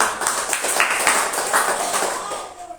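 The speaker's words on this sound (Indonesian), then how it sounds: "Tepuk tangan dulu." Church congregation clapping together during an online Wednesday service, a dense run of hand claps for a few seconds with a little speech mixed in, fading toward the end.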